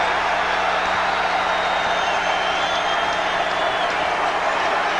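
Arena crowd at a Xavier versus Dayton college basketball game rising to its feet, a steady, dense roar of cheering and applause filling the whole space without letup.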